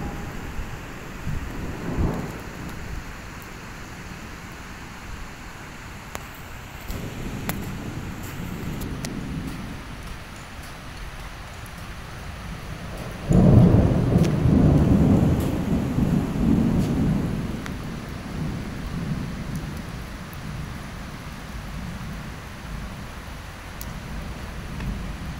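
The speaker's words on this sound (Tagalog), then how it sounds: "Sunod ang ulan." Rain patters steadily while thunder rumbles, with a loud, rolling crack partway through that fades slowly back into the rainfall.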